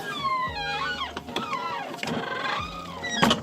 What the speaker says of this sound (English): the bus door is kind of like reacting to your air system